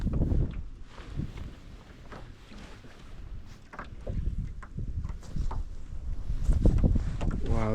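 Wind gusts across a pond and pushes a small boat toward the shore, a fluctuating rush of open-air noise with scattered thumps and splashes that grows louder toward the end.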